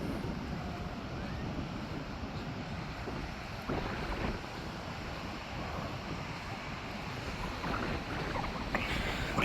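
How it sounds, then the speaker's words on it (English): Waves roll onto a Miami beach in a steady, moderately distant wash, blended with wind rumble against the microphone, with a few faint clicks and no clear talking. "Man, there's waves here, yo."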